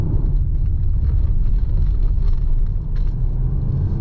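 Volkswagen Touareg 210TDI six-cylinder diesel accelerating from inside the cabin, a deep steady low rumble that stays strong and constant throughout, with no talk.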